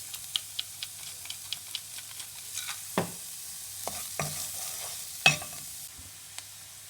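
Onions and carrots sautéing in a pan, a soft sizzle under a series of light, regular taps and scrapes from stirring, with a few louder clinks near the end.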